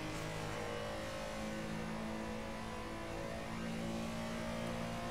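Race car on the Nurburgring GP circuit in a racing video game, engine revving and droning steadily with shifting pitch, loud and continuous with no talk.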